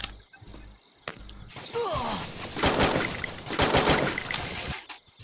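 Rapid gunfire and bursts from a multiplayer shooting video game, loud dense crackling volleys over several seconds following a few short thuds at the start.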